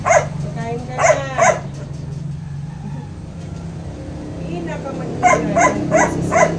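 A dog named Zoe barks in short repeated bursts near the start and again toward the end, with quieter stretches between and a faint whine, while a person talks in the background.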